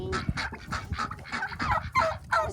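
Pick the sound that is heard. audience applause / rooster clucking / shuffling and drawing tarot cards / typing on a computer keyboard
rooster clucking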